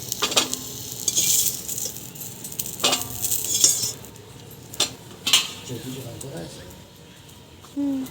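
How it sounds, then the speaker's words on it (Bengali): Fried cauliflower lifted out of a pan with a metal utensil, sizzling oil underneath and several sharp clanks and scrapes against the pan close by, with a person speaking at the end. "আমি এইরকমভাবে ভেজে নিয়েছি এবার কপিটাকে তুলে নিচ্ছি"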